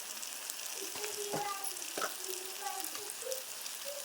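Masala spices with salt and chilli powder sizzle in a frying pan as they are stirred, a constant soft frying hiss with a few scraping strokes of the spoon, fairly quiet and close.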